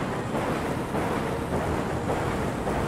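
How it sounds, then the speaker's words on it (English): Thunder effect from the card game Slay the Spire: a broad, steady rumbling roar lasting a few seconds, loud and sustained with no distinct crack, with no talking. "Thunder."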